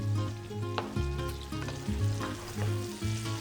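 Food sautéing in a pan with brown sugar and a pinch of cinnamon, a soft continuous sizzle with low bubbling and a few light stirring scrapes, fairly quiet and close.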